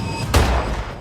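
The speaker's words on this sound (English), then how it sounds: "The mobsters shoot her." A single sharp gunshot blast from mobsters opening fire, a short loud burst ringing out over a dull background rumble and fading quickly.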